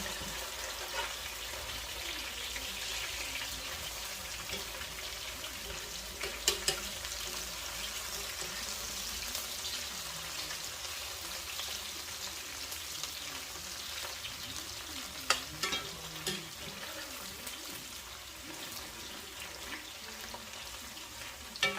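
Fried potatoes and onions browning in a pan, stirred around: a continuous soft sizzle with occasional scraping and clinking stir strokes, moderately close and without talk.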